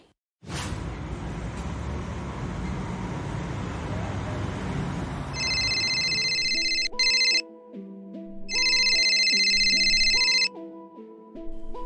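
A phone ringtone trills in repeated bursts after several seconds of broad rushing noise, with a simple electronic melody playing alongside.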